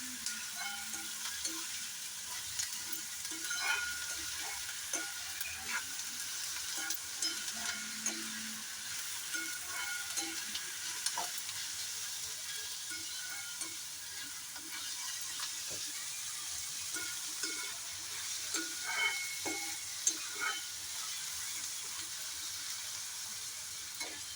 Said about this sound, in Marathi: आता कांदा लाल होईपर्यंत गॅस बारीक करून आपल्याला परतून घेत राहायचं आहे